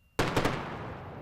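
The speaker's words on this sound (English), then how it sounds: "a sonic boom passes across the Florida Space Coast as the Falcon 9 first stage" A Falcon 9 first stage returning to land at Cape Canaveral on the Florida Space Coast sends a sonic boom: a sudden loud double or triple thump after brief quiet, then a rolling rumble that slowly fades.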